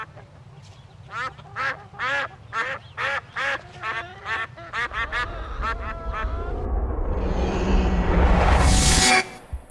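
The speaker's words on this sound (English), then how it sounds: "recently added a flock of over 30 ducks" A flock of over 30 ducks on a farm quacks in a steady run of loud, close calls, then the quacking fades into a rising rush of noise.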